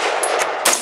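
A 6.5mm Grendel rifle fires outdoors, loud sharp cracks with broad noisy bursts, two main blasts near the end after a busy stretch, with no talking.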